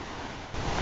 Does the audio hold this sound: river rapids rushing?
yes